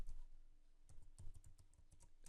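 Computer keyboard typing while writing an SQL query in PostgreSQL, a quick irregular run of close, crisp key clicks with a few heavier keystrokes.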